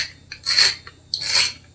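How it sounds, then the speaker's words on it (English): A pepper grinder cranks out two short raspy grinding bursts close up, separated by a brief pause, with no talking. "How do you know how much pepper to add with like a pepper grinder?"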